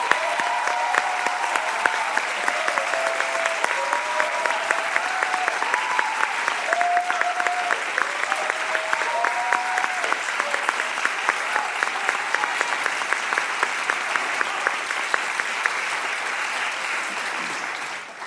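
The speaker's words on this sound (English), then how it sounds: "we need to give Al a big round of applause" Sustained audience applause at a theater awards ceremony, a steady dense clapping from a large crowd that holds evenly for about eighteen seconds before tapering slightly at the end.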